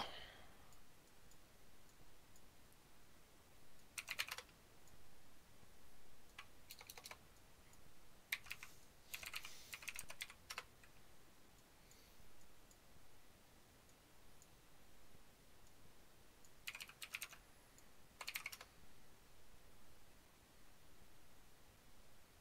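Bursts of computer keyboard typing in short clustered runs separated by quiet gaps, faint and close against a low steady hiss, while playing the online drawing game Scribbl.io.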